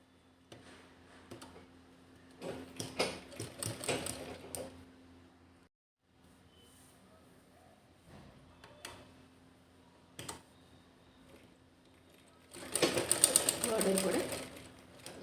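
A sewing machine stitches a dress top, running in short bursts separated by pauses, with a louder, denser run near the end; a voice speaks intermittently between the runs.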